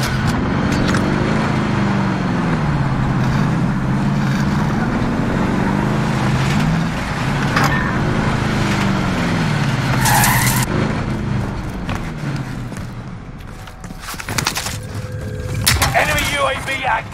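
A car engine drones steadily in the Warzone video game on Rebirth Island, its pitch rising and falling as the vehicle is driven, with skidding, gunfire and game sounds layered in.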